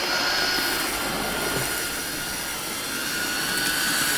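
Hornby Gordon model locomotive with an older Ringfield motor running on track, a steady loud whirring, hissing motor drone with a faint high whine, continuous throughout, no voices.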